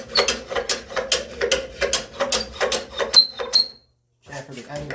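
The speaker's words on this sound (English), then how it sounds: "chamfer the end grain a little bit." A rasp or file works the end grain of a wooden cabinet scraper, sounding as rhythmic, scratchy strokes close up that stop abruptly for a short pause before resuming.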